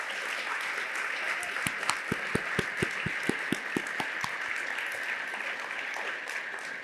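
An audience at a lecture event applauds people standing to be recognized, a steady wash of many hands clapping with a few sharper, closer claps standing out in the middle.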